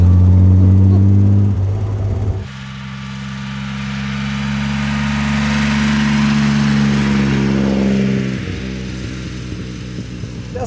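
A 1938 Alvis Speed 25 SB pre-war car's engine drones loudly and close while driving, a deep steady hum that shifts pitch as the revs change partway through, with a brief drop and recovery.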